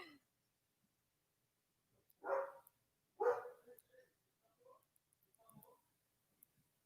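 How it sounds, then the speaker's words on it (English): A neighbor's dog barks twice in quick succession at a distance, followed by fainter yips and whimpers in a quiet room. "And the neighbor's dog."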